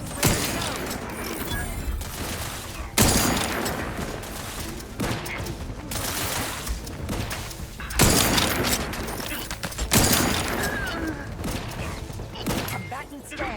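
Gunfire in The Outer Worlds 2, with heavy volleys of shots and booms repeating every few seconds over a dense, continuous combat din.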